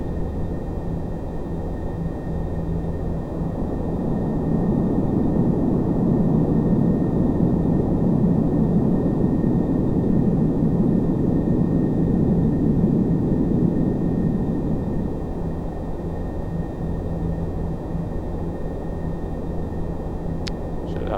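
A Boeing 747-400 takes off in a home flight simulator: a steady, deep engine roar swells to a peak, holds, then eases back to a lower drone, with no voices.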